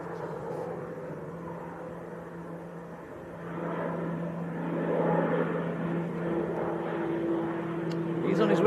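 A small aircraft, said to resemble a Spitfire from one angle, passes at a distance on its way to Biggin Hill, its steady engine drone building gradually and mixed with outdoor background noise.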